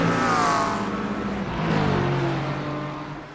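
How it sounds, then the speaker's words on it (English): Multi-class race cars at Circuit des 24 Heures du Mans in the iRacing simulator, loud engines howling and shifting pitch as cars rev and sweep past in quick succession, no talking. "As they're ripping it around, these cars are loud."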